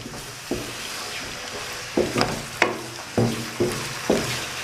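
Mutton is stir-fried in a pan with oil. About half a dozen rhythmic spatula scrapes land over a soft, continuous sizzle, close and fairly loud.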